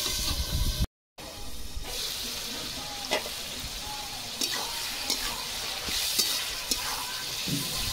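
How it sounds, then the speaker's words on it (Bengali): Steady, loud sizzling of carrots frying in a pan, with occasional scrapes and clinks of stirring throughout. "গাজর প্রায় হালকা ভাজা হয়ে আসছে"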